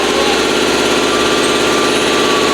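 A loud air compressor runs steadily in a home garage during a truck build, a dense, continuous mechanical drone with a buzzing rattle and no pauses.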